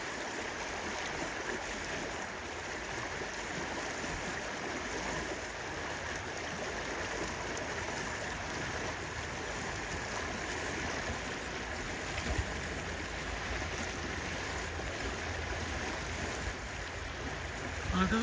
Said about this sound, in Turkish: Şu suyun şırıltısını biraz dinleyelim çünkü artık her geçen gün bu şırıltı kayboluyor.